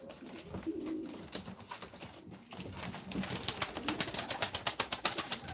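Pigeons at a live pigeon auction for tumbler and performing birds give repeated soft cooing, building into a steady rhythmic series of close calls in the second half, with light background noise throughout.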